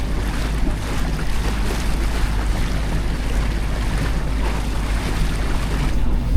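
A small rowing boat moving across water on a Swedish mountain trail, heard as a steady, continuous wash of water and wind rumble throughout, with no voices.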